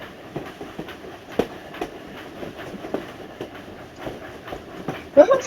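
A Minecraft Bedrock Edition train rolling past with a steady rumble and rhythmic clacking wheel beats, continuous and fairly close, with a louder burst near the end.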